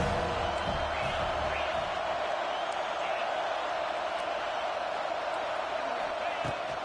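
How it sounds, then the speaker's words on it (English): A loud, sustained roar from a large college football stadium crowd on third down at Saban Field, a dense wash of distant voices holding steady throughout. "The Tide crowd rolling noise down onto Saban Field on 3rd down."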